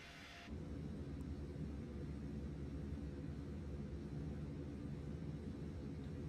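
Cabin engine noise of an A320neo in Microsoft Flight Simulator 2020, a steady, faint, broadband airliner roar and rumble heard from a passenger seat, continuous and unbroken after a brief hiss at the start.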